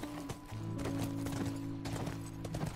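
Horse hooves clip-clop in The Last of Us Remastered, a regular trotting rhythm of sharp knocks over a sustained game music chord, no talking.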